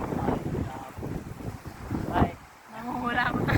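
Wind buffets the microphone at Daewangam seaside park in Ulsan, South Korea, a rough, gusty rumble that rises and dips, with someone talking over it.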